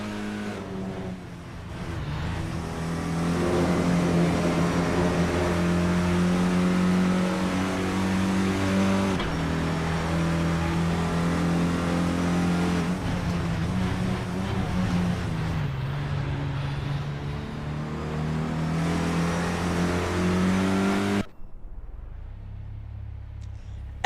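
A Renault Clio Cup race car engine at Hockenheim in Assetto Corsa, heard onboard, revving hard and shifting through gears in repeated climbs before cutting off abruptly near the end.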